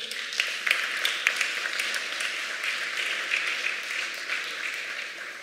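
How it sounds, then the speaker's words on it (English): A church congregation applauding steadily, a dense wash of clapping that holds at an even level throughout. "Give them a round of applause."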